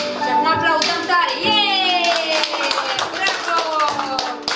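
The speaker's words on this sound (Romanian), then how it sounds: "Și acum aplaudăm tare." Children clapping hands in a music school class, sharp repeated claps over children's voices and singing-like tones, busy and close.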